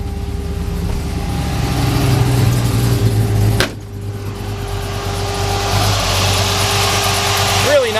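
A 1948 Ford F1 custom pickup fitted with a Holley 650 carburetor idles steadily nearby, a low continuous engine drone with a brief sharp break midway before settling back to a smooth idle.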